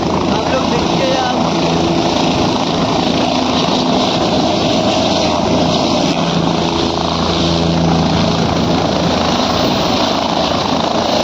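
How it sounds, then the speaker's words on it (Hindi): Helicopter lifting off near Kedarnath in the snowy Himalayan mountains of Uttarakhand, a loud, close, unbroken rotor and engine roar filling the whole stretch while someone talks excitedly over it. "देखिए उड़ने वाला है हेलीकॉप्टर"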